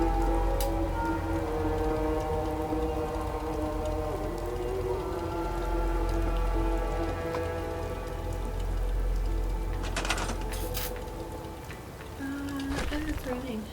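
Steady rain pours throughout a Fallout 4 game world, a dense continuous hiss with low rumble, while soft tonal music or ambience and occasional brief clicks sit within it.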